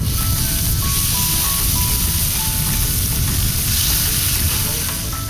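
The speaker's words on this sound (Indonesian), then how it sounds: "Setelah itu barulah bumbu ditumis semua." Spice paste sautéing in a pan gives a loud, continuous, close sizzle with steady frying crackle throughout and no talk.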